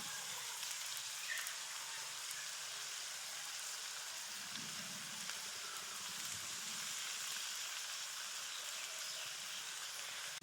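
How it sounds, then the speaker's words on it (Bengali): Steady hiss of mango pickle frying in oil as ground panch phoron spice is tipped in, a continuous close sizzle with a few soft low stirring bumps and no talking. "দিয়ে দিচ্ছি পাঁচফোড়নের গুঁড়ো।"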